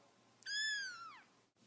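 A single cat meow, drawn out and rising then falling, fairly clear against a quiet background with no talking.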